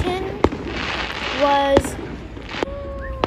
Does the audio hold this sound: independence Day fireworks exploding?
yes